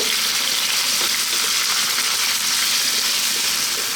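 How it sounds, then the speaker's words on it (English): Beef fries in a pan over medium heat with a steady, dense sizzle, punctuated by faint stirring scrapes as the pieces are kept moving, close and continuous with no talking. "So we're on a medium heat. We want to fry this around for 4 to 5 minutes."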